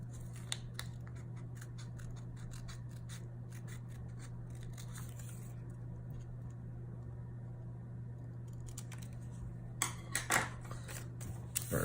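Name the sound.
cutting out a leather knife sheath pattern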